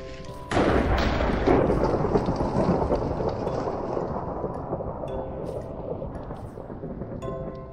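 Lightning strike in a Minecraft-style video game, a sudden loud crack of thunder rolling into a long rumble over steady rain, fading slowly.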